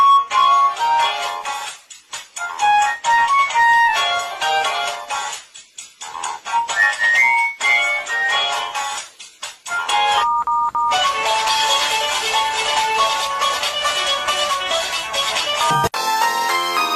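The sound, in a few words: mobile phone ringtone playing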